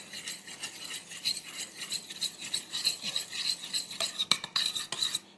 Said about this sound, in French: Et on met la gélatine dans le liquide chaud. Voilà, et on mélange, simplement.